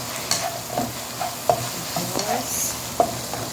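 A spoon scrapes and clanks around a cooking pan while a Filipino dish of fish and coconut milk simmers, with irregular metallic taps and scrapes over a soft sizzle, and a brief word of speech.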